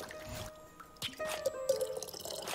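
A drink is poured in the Tavern Talk tavern video game, bright liquid drips and gurgling pours with a few clinks, close and clear, with brief pauses between bursts.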